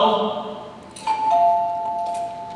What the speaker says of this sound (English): That's the doorbell, dear, not the telephone.